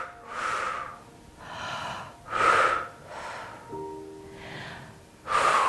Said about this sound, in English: Short out breath and exhale